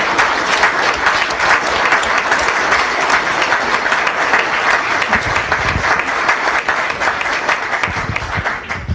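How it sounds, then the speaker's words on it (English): Loud, sustained applause from an audience at a meeting honoring a police department, dense steady clapping filling the whole stretch without pause. "They deserve the applause"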